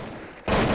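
Gunfire in the mobile shooter game Crisis Action: a brief, loud burst of rapid shots bursts in abruptly halfway through a short moment of quieter game ambience.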